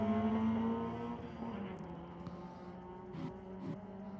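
Two Hondas launching at a quarter-mile drag strip, their engines revving hard at first then fading into the distance, with crowd and PA murmur behind.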